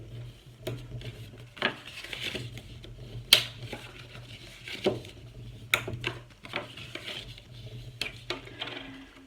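Sheet of A4 paper being folded and creased by hand: a run of crisp, close crackles and sharp pressing snaps at irregular intervals over a low steady hum, with no voice.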